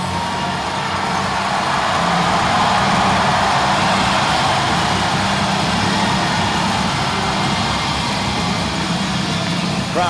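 Steady roar of a hockey arena crowd during an AHL Calder Cup playoff game, broad and continuous at a constant loud level throughout, with no distinct voices standing out.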